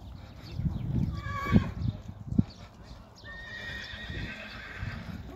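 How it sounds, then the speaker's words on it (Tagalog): Horses nearby, including a two-day-old foal: hooves clop and shuffle on the ground while a couple of whinnies ring out, with quiet background noise. "may mga kabayo din dyan"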